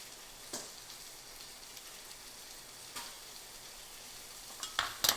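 Chicken browning in a pan with garlic, a steady soft sizzle and frying hiss running throughout, broken by a few brief clinks and stirring scrapes, close by with no talking.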